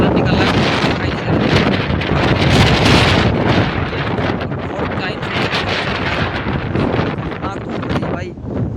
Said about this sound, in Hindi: आंधी आ गई वास्तव में, ये देखो भाई, पूरी धूल सेट भाई